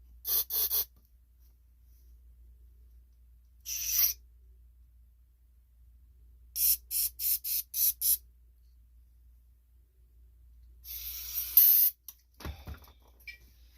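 Carburetor cleaner sprays through a straw into the carburetor of a Honda GT 31 four-stroke engine in sharp hissing bursts: a few, then a quick run of five, then a longer blast, separated by silence.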